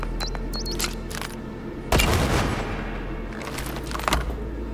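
A loud explosion goes off inside Cyberpunk 2077 when a trap charge blows, giving a sudden broadband blast that rumbles and fades over a few seconds. Lighter game effects sound before it, and a smaller burst follows near the end.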